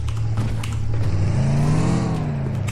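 A car in a video game accelerates, its engine note climbing steadily in pitch and loud throughout with a steady droning roar.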